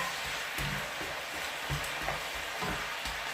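Squid and holy basil stir-fried in a hot pan with spring onion, a steady close sizzle broken by scraping stir strokes, with no talking.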